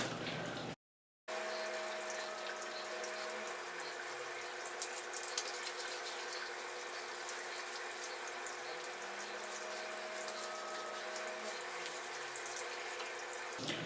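Tap water runs into a bathroom sink in a steady, continuous splashing rush that stays constant across the whole stretch after a brief cut near the start, with no voices.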